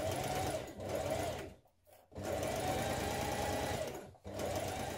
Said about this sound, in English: we're going to take our front piece and we're going to stay stitch along the front edge